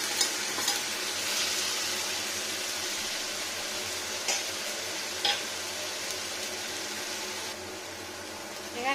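Tomato puree hits hot ghee in a pan and sizzles steadily and loudly, with a few faint stirring clicks scattered through it and no voices.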